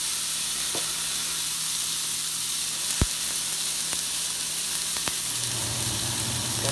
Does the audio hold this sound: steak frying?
yes